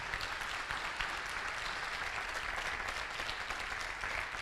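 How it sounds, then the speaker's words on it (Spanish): Congregation applause in a church during an evening service, a steady dense wash of clapping that holds evenly throughout with no break or voice on top. "Dale un fuerte aplauso al Señor en esta noche."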